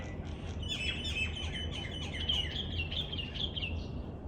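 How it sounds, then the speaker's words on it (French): Birds sing in the morning, chirping in quick, overlapping high trills over a soft steady background hum, fairly close and lively throughout. "le chant des oiseaux le matin"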